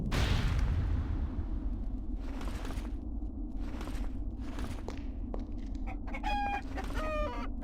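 Chickens in the video game Arx Fatalis cluck in repeated short bursts over a steady low background hum, with a few sharp squawk-like calls near the end and no talk.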